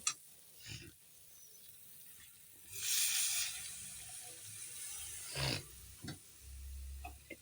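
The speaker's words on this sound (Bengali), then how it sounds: "এখন আমি একটু সামান্য জল দিয়ে দেব" Water splashes into a hot pan of spice-fried potatoes for an egg curry, giving one short, loud hissing burst. A few soft clinks and knocks follow in an otherwise quiet kitchen.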